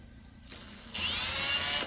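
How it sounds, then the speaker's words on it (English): A handheld power drill spins up with a bit in it, its loud, steady whine stepping up in intensity partway through and running close and alone with no talk. "Let's drill."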